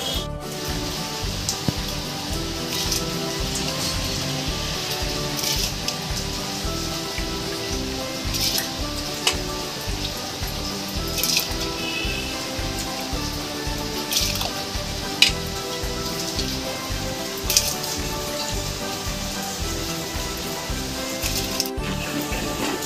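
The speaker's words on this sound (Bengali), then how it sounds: "এবার আমি ফুটে উঠেছে জলটা, আমি এবার ভিজিয়ে রাখা চালটাকে এবার দিয়ে দিচ্ছি" Soaked rice tipped into a pot of boiling salted water, with a steady bubbling, watery rush and scattered drips and splashes running evenly throughout at moderate loudness, with no voices.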